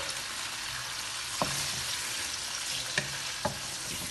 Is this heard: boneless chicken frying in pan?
yes